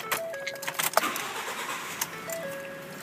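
A 2012 Ford F-150 XLT 4WD pickup's V6 engine cranks and turns over, preceded by a few clicks and a jingle of keys, then settles into a quiet idle with a chime tone.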